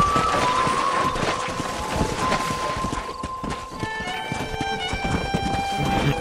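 Horse hooves clip-clop steadily in Red Dead Redemption over a continuous bed of game ambience and tonal music, the hoofbeats close and moderately loud.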